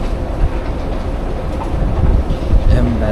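Steady low rumble of a train moving through a station, with a rhythmic rolling clatter and faint background voices.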